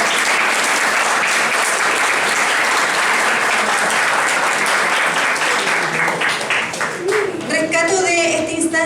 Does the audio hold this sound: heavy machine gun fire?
no